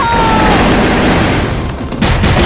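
A grenade goes off in a first-person shooter game, filling the scene with a loud, dense burst of noise, then a fresh blast near the end.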